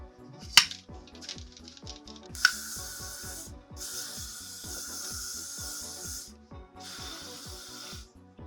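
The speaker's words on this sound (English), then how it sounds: "we spray the shit out of it" Several bursts of hairspray hiss from an aerosol can in long pulses, close by, with a couple of light clinks and soft background music underneath.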